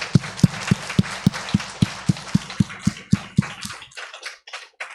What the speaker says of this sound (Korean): 뜨거운 박수로 축복해 주시기 바랍니다